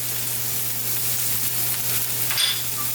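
Onion, garlic, scallion, thyme and pimento berries sizzle steadily in about a tablespoon of hot oil in a pot for stewed oxtail, a close, continuous crackling hiss over a low background hum.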